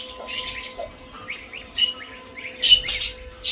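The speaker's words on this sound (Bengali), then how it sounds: "যেমন বদ্রির পাখিটা বাসার মধ্যে যাচ্ছে" A budgerigar chirps in short, bright bursts of twittering and squeaky calls, close by and fairly loud, with a faint steady hum underneath.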